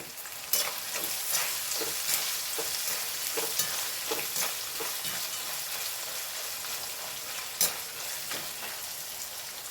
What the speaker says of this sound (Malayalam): നമുക്ക് വെളിച്ചെണ്ണയിൽ ഇട്ട് കൊടുക്കാം കേട്ടോ ഇതാ ഞാൻ ഇട്ട് കൊടുക്കുന്നുണ്ടേ കുറച്ച് കുറച്ച് ഇട്ട് കൊടുക്കുക കേട്ടോ